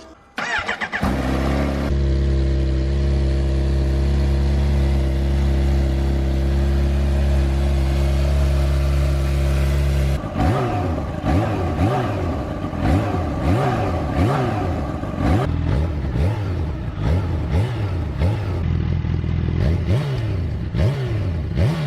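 Kawasaki Ninja H2R superbike mounted on a paddock stand, its engine running at a steady loud drone before a series of sharp, repeated throttle blips rising and falling in pitch, close and unmuffled.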